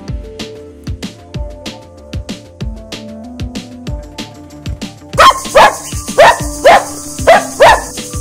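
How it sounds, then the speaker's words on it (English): A dog barks repeatedly in short, sharp bursts, growing louder and more insistent toward the end, with a steady rhythmic patter underneath. "Dog, this is dog."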